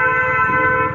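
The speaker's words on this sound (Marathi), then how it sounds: "अबरे हॉर्न देतोय" A vehicle horn blares steadily for the whole second in busy road traffic, loud and close, heard from a motorbike rider's position amid engine noise.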